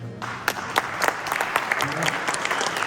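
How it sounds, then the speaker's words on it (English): A crowd at a VW car show gathering claps for Bert, a lively round of applause with distinct individual claps, with a voice audible beneath it. "I just want to give him a big round of applause for being here"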